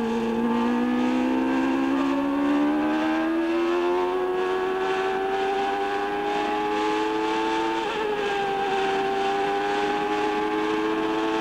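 Michael's Formula 1 car screams flat out in fifth gear down the straight at the Barcelona Spanish Grand Prix, a loud, steady high-pitched engine whine holding one gear with only slight pitch drift, alone without talk.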